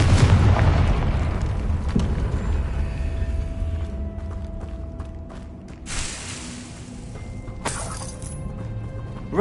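Explosive Confringo spell blasts in the video game Hogwarts Legacy, several booming, crashing impacts with shattering debris, the loudest at the start and two sharp bursts later, over a continuous game soundscape.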